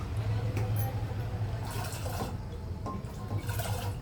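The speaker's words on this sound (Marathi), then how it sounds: "आता डाळ धुवून घेतली" Lentils for dal being washed in water, with a soft continuous splashing and swishing close by and a few brighter sloshes in the middle and toward the end.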